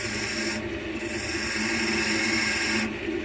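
Small gouge cutting a groove in spalted beech on a lathe, a continuous close rubbing, scraping hiss over the steady hum of the spinning wood, lasting a few seconds.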